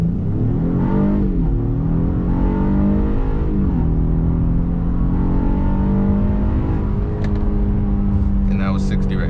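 A 2022 Honda Passport TrailSport with its VTEC engine accelerates hard, a loud continuous engine roar that climbs steadily in pitch, shifts, and climbs again, with a person talking over it.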